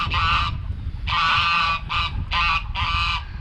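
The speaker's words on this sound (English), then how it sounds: "here come the geese. The geese are awesome." Geese honk loudly nearby in a run of five raucous calls, separated by brief gaps over a low outdoor rumble.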